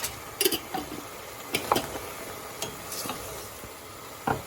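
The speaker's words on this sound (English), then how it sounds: "And now just mixing it on a high heat." Okra bhindi curry stirred in a pan over high heat, with soft scraping strokes and light sizzle and a few sharper clinks of the utensil against the pan, close by with no talking.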